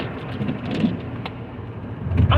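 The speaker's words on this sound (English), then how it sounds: "since it's raining" Rain patters steadily with a low rumble that may be distant thunder, swelling toward the end of a brief stretch.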